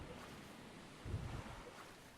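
Rough ocean waves and rising stormy weather on the open sea in the survival game Stranded Deep, a steady low wash of wind and surf with a brief swell of heavier water in the middle, no voices.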